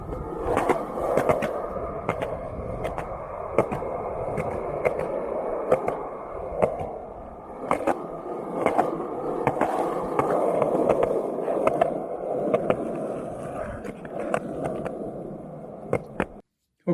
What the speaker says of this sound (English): Some of the sounds of skating.